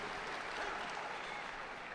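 A judo tournament crowd in a Grand Prix final's golden score applauds and cheers steadily, a dense continuous wash of clapping heard from a distance throughout.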